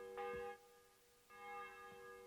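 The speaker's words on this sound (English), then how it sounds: "The bell's ringing for hands the 5th time." A church bell tolls in the medieval game Kingdom Come Deliverance II, two resonant strikes about a second apart, each ringing on with a long humming decay, heard from a distance with no talk.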